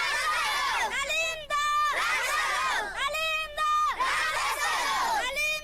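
A crowd of young primary-school children chanting slogans together while standing on a broken bridge over a drain, loud rhythmic shouted phrases repeating in waves, close and outdoors.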